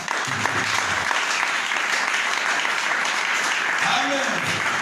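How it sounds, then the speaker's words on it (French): A church congregation applauds steadily during a French-language service, a dense even wash of clapping held for several seconds, while a voice speaks briefly underneath near the end. "Est-ce qu'on peut applaudir?"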